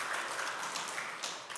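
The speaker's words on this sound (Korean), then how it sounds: "우리 한번 위로의 박수 한번 내주시면 감사하겠습니다." A church congregation gives consolation applause during a Sunday worship service, a faint, distant patter of clapping that fades toward the end.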